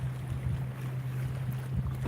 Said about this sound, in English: It's kind of windy out here